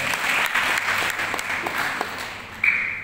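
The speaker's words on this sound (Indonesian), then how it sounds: "Tepuk tangan untuk Asopa." An audience at a talk on discovering children's talents breaks into applause, a steady moderate clapping that holds for about three seconds before a short tone cuts in near the end.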